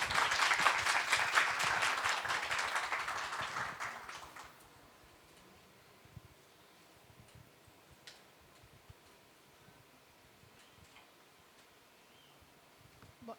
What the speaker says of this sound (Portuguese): Eu gostaria de pedir uma salva de palmas para as meninas